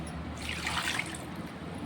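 Water is poured from a mixer jar into beetroot rasam. A short, close splashing pour swells briefly and then fades under a low background hum.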